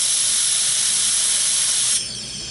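A loud, steady hiss of compressed air blown into the oiler screen of a Husqvarna chainsaw lasts about two seconds, then drops to a softer, continuing hiss.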